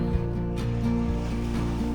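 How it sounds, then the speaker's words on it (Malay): Strong ocean waves at an island beach make a continuous rumbling wash of surf, loud and steady, with a low droning hum running underneath. "rasanya kita tak boleh masuk ke dalam sebab ombak yang sangat-sangat kuat"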